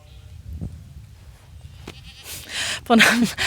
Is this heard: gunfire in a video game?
no